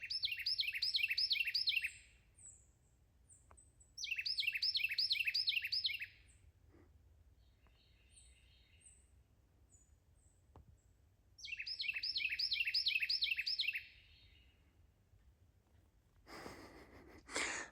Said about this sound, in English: That's my favorite bird call.